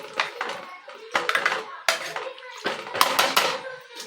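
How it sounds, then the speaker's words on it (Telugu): A metal spoon stirring red lentil dal in a pot, with repeated clattering scrapes against the sides in irregular bursts, close and moderately loud. "ఇలా ఒకసారి కలపాలి"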